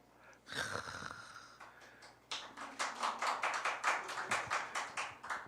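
A church congregation claps briefly, then breaks into steady rhythmic clapping in unison, about two or three beats per second, in a reverberant room.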